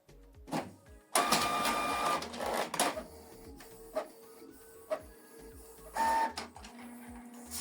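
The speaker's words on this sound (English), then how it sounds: "This is the document we scanned and also printed it out." A Canon TR4755I inkjet printer runs through a print job, with whirring bursts of paper feed and print-head motion broken by clicks and short pauses, close and loud.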